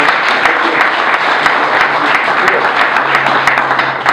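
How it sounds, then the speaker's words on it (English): Audience at an agricultural tech summit in the Salinas Valley claps in sustained applause, a dense, steady wash of many hands close by with no talk over it. "let's give Anthony a round of applause for coming"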